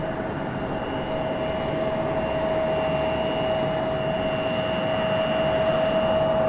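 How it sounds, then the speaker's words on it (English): American Airlines A319 departing with a hard left bank, a steady broadband jet roar with a sustained whine, loud and constant throughout with no talk. "hard left bank for the American Airlines A319"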